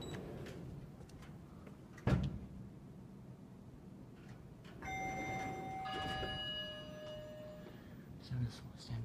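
Doors of a Schindler 3300 MRL traction elevator in a college building slide shut, with a soft thud and a mechanical rumble, and a chime tone rings during the closing. A few faint knocks sit under a steady background hum.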